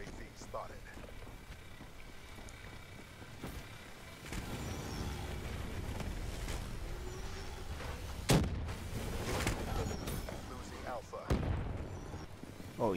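Rockets firing and exploding in a first-person shooter video game, with sharp loud blasts near 8.5 and 11.5 seconds over steady game noise while players talk throughout.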